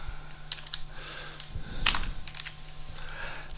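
Close, quiet keystrokes on a computer keyboard as code is typed, irregular clicks with a slightly louder cluster in the middle over a low steady hum.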